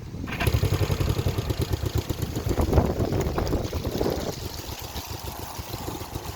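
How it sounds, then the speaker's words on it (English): A 1975 Honda CB360T motorcycle engine cranks on its electric starter and catches, then settles into a steady, loud, close idle with a throbbing pulse, alone with no talking. "we'll hit the electric start"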